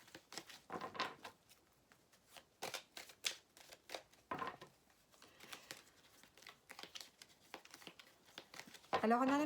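Tarot cards are shuffled and drawn by hand, giving soft papery rustles, riffles and flicks in irregular bursts close by, with a faint crinkle near the end.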